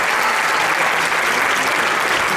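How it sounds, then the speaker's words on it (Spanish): An audience claps steadily through a tango tribute show, a dense, even wash of applause filling the whole stretch without pause. "para recibir el aplauso de todos ustedes."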